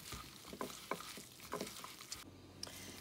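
Mullet fish being mixed by hand with flour and curry powder in a bowl, heard as soft irregular squishing and patting close up, with light scraping and a brief quieter stretch near the end.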